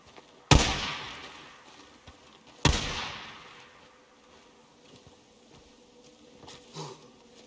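Two sharp gunshots ring out in the Days Gone video game, about two seconds apart, each loud and close with a long decaying tail, followed by quieter game ambience.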